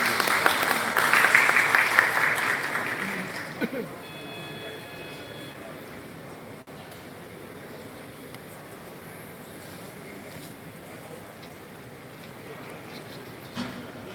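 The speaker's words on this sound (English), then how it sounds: "Can I have a big round of applause for him?" An audience at a startup expo bursts into applause for about four seconds, a broad, busy patter of many hands that then drops away, leaving a quiet hall murmur.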